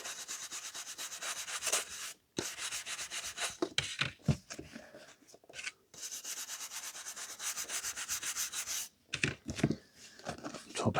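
Vintage paperback books get rubbed down by hand, a loud, close, dry scraping and rubbing in long, steady strokes with brief pauses between passes and no talking.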